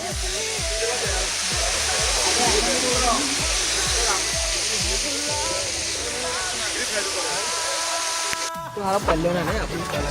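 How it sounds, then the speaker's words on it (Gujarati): A waterfall near Pavagadh gives a steady, loud rushing roar of falling water that fills the whole clip. A person talks over it for most of the time. "તો આગળ ધોધનો નજારો તમે જોઈ શકો છો."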